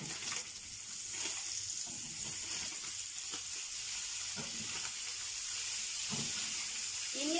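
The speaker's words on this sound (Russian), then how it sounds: "к мясу я добавлю нарезанный мелко лук, чеснок и натертую морковь" Finely chopped onion, garlic and grated carrot fry with meat in a pan for goulash, a soft steady hiss and sizzle with faint clinks of stirring, fairly quiet throughout.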